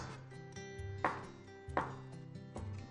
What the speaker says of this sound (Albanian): Kunguj të njom. I presim në fetza të holla.